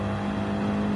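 A racing car in a racing video game set at Barcelona roars past at close range, one steady, loud engine whine lasting about a second with no talk over it.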